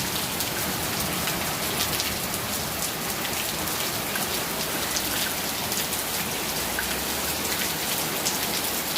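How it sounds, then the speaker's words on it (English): Steady, heavy rain pours down without a break, a dense hiss of drops close by with no voices. "Finally, it's raining."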